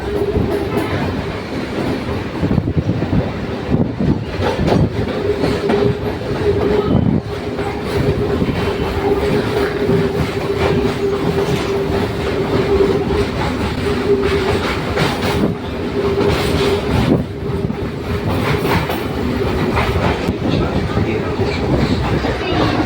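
A train rumbles along the rails past Prinsep Ghat station under the Vidyasagar Setu in Kolkata, loud and close, with rhythmic clatter and a sustained tonal whine running through the whole stretch.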